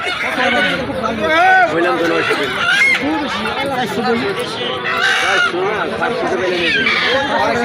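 Chickens cluck and squawk at a busy village poultry market where geese are also sold. Close, frequent calls mix with steady nearby talk and crowd chatter.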